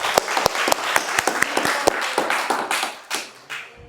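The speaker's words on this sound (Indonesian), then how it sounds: "tepuk tangan." Applause from a small audience at a geography talk show, loose and uneven with distinct, close hand claps standing out, thinning out toward the end.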